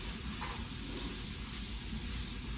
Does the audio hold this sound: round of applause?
no